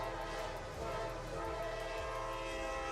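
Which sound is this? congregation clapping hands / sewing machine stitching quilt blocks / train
train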